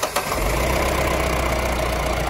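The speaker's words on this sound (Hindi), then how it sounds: "तो दोस्तों ऐसी कुछ साउंड है बोलेरो कैंपर की" Mahindra Bolero Camper with a 2.5 litre BS4 diesel engine idling, a loud, dense, steady low clatter and rumble with no talk over it.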